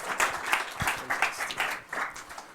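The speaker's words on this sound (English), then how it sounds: "Let's give him a round of applause as he come up on stage." Audience applause at a startup pitch battle event in London as a speaker walks onto the stage, a short burst of moderate clapping with uneven rhythm and a faint voice underneath.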